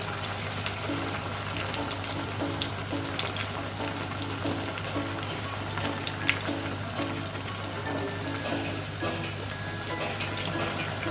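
A piece of bread dessert deep fries in very hot oil, giving a dense, continuous bubbling sizzle that holds steady throughout, with faint crackles on top.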